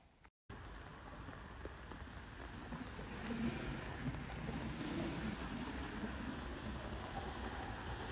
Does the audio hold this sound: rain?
yes